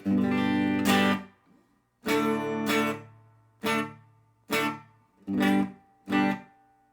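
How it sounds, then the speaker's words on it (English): Guitar chords strummed one at a time through a Supro Delta King 12 amp with spring reverb at about a quarter, each ringing briefly before fading into a short, washy tail, with pauses in between. "I've got the reverb turned up about a quarter of the way right now"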